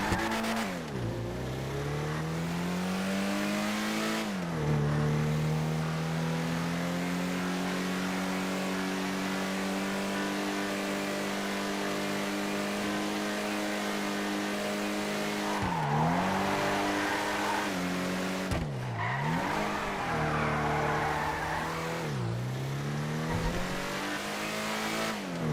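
A two-door sports classic car in a video game test drive revs and accelerates steadily, its engine tone climbing and holding, then dropping sharply through several gear shifts and brief tire squeals near the end.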